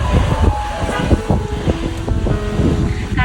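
Outdoor wind at sunset gusting across the microphone, a loud rumbling buffet that rises and falls throughout, with no talking.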